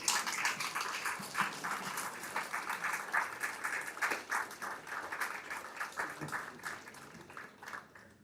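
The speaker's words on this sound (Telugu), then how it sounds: "can I ask everyone to right and then give a standing ovation in inviting hour super star on to the stage" A sustained, fairly loud audience applause fills the hall as a crowd gives Rajinikanth a standing ovation at the Green Park Resort & Spa opening ceremony in Coorg. Dense clapping keeps going without a break.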